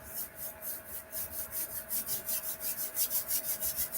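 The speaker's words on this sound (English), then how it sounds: "rub our hands to be able to generate heat" Two hands rub briskly together to build warmth, making a close, even, rhythmic swishing friction of about four or five strokes per second.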